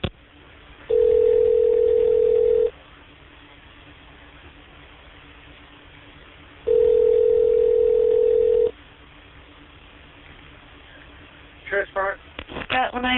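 A telephone line tone during a call transfer: two long steady beeps, each about two seconds, separated by a quiet gap on a narrowband phone line, followed by brief clicks and a voice at the end.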